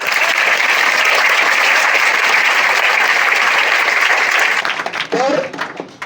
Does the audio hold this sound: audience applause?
yes